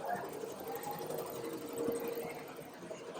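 A Ricoma embroidery machine stitches at an apparel industry trade event, giving a steady, fast mechanical whir with rhythmic needle clatter over a busy hall hum.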